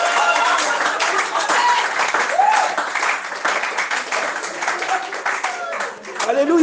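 A church congregation applauds and cheers to acclaim the Lord during a session on marriage, with steady, dense clapping and crowd noise that holds throughout at a strong level, and voices mixed in.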